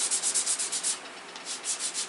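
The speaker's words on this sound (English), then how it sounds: "So I just use a piece of sandpaper there." Sandpaper rubbed back and forth along a filler trim line, a steady rhythmic scratchy rasp with regular strokes, close and moderately loud, no talking.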